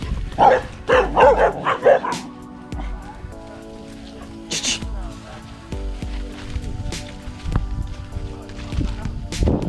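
A dog at a fishing spot barks and yips in quick bursts, loud and close at first, then quieter whimpers and yelps among rustling outdoor noise, with people talking nearby.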